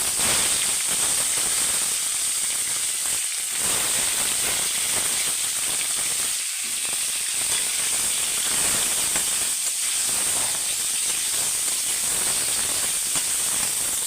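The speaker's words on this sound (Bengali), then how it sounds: "এখানে তেল আছে এখন আমি এইটাতে ফুলকপিগুলো ভেজে নেব" Cauliflower florets frying in hot oil at medium heat, a constant loud, dense sizzle and hiss running unbroken throughout, close to the pan, with no voices.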